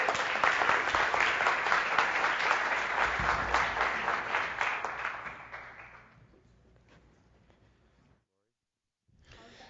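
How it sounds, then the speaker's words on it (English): Audience at a developer conference panel gives loud sustained applause that fades away over several seconds, then a brief quiet gap and faint room sound. "Please give them a big round of applause."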